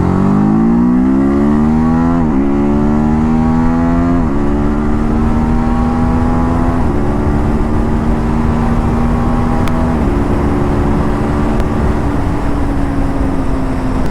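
TVS Apache RTR 310 motorcycle engine revving high toward its 9,000 RPM redline, a loud, close, sustained whine that climbs in steps as gears shift, with brief dips at each quick-shifter change.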